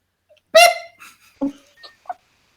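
A person imitates a short, high-pitched electronic chirp with their voice, followed by a couple of softer squeaky vocal sounds.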